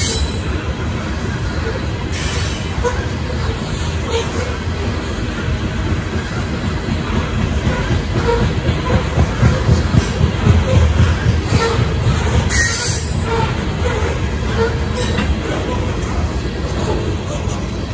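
An NS train rolls past a railroad crossing with a steady, loud rumble and rail clatter that stays close throughout and swells slightly around the middle.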